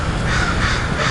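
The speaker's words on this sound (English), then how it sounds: "there are like a million crows around here and they are very loud" A large flock of crows caws loudly and continuously somewhere outdoors in Portland, many overlapping harsh calls forming a dense, steady din with no talking.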